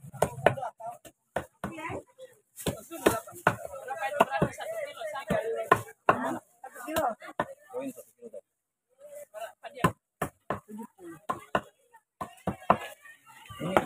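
Red gold fish, a rare species, being chopped in two with a series of sharp, loud, irregular knife strikes on a board, mixed with people talking nearby.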